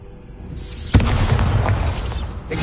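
A Bombarda spell goes off in Hogwarts Legacy: a loud, sudden boom lands after a brief rising swish, then a broad crackling blast rumbles and decays over about two seconds, with no voices.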